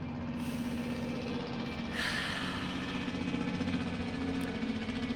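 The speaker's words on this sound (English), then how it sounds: "He got his Jake brake on the whole way down the hill." A heavy truck descends a long hill with its Jake brake engaged, producing a steady, rumbling engine drone with a low throbbing tone that holds throughout and swells slightly partway through.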